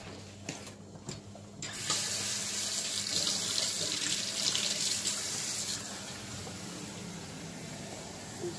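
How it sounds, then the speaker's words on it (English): A kitchen faucet runs as a food container is rinsed under it, starting with a few clunks and handling sounds, then a steady close rush of water splashing into the sink that eases slightly toward the end. "I'm just rinsing out this container"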